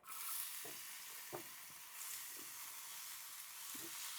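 Ingredients tipped into hot oil with popping mustard seeds in a Kerala-style pan, a soft steady hiss with a few stirring scrapes, fairly quiet and close, no talk.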